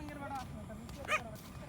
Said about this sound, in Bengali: পিছনে ছিল ওদিক কুত্তাগুলা ঘেউ করে,